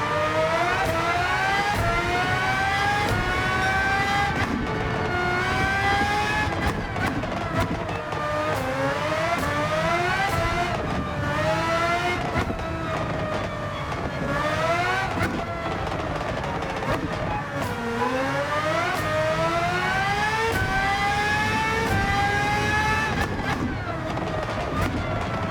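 A race car in Gran Turismo 7 on Highway 1 revs hard through repeated rising gear pulls, each climb cut by a quick shift, loud and close throughout.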